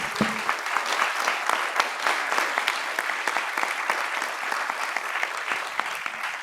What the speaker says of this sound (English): give a big round of applause to Dr.